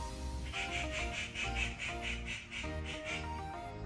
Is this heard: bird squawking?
yes